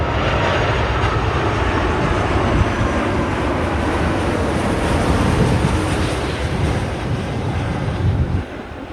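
A heavy airliner lands at Sydney Airport with a broad, steady roar of engines and rushing air that holds loud and unbroken for several seconds before easing slightly at the end. No one speaks.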